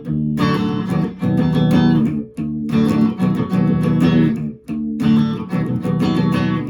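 An electric guitar plays the breakdown riff from a song, sustained chords with a few short stops and restarts in a repeating pattern, played alone and close.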